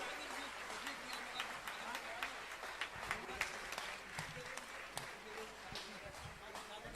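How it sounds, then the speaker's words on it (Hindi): An audience claps loudly and steadily at a religious discourse gathering in Shirpur, Washim, Maharashtra, welcoming the release of a translation. The applause is dense and continuous, with voices over it. "इस अद्भुत क्षण के लिए आप लोग एक बार बहुत जोरदार तालियों के साथ स्वागत करें"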